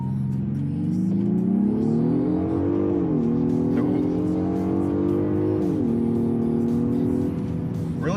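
A 2025 Genesis G80 3.5T Sport Prestige with a V6 launching under launch control: the engine note climbs strongly through two tall gear shifts, loud and close from inside the car. A voice talks faintly underneath.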